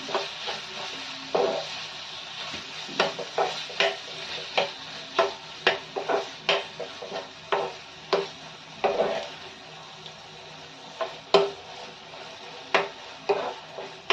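Cabbage and peas sauté in a pan with 150 grams of grated paneer, a soft background sizzle broken by repeated sharp spatula scrapes and clicks in an irregular stirring rhythm, close and alone.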